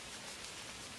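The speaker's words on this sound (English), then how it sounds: "you can hear the rain coming down." Steady rain falls outdoors at night, a quiet, even hiss of drops with no voices and no other distinct sounds.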